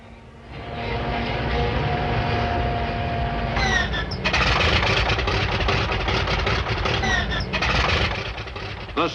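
Hundreds of B-29 Superfortress bombers starting their engines ahead of takeoff in the wartime Pacific: a dense, rumbling drone of big piston engines, growing fuller and rougher as more engines catch, heard through an old, hissy film soundtrack.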